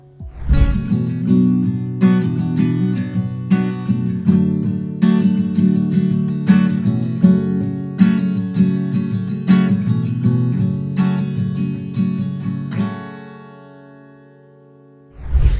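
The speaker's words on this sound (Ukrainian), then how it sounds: "як він впорається з акустичною гітарою" Acoustic guitar recorded through a Sennheiser Profile USB microphone, strummed and picked in a steady rhythm, close and clear, with a final chord ringing out alone before one last strum.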